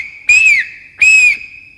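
A bus conductor blows a shrill whistle in two separate sharp blasts, each about a third of a second with a slight rising and falling pitch, signalling a bus to reverse. The blasts are loud and close, with no other sound.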